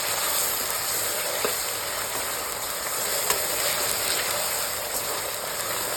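Ginger paste fries in a pan for chicken curry, giving a steady, close hiss of sizzling oil with faint scrapes of stirring now and then.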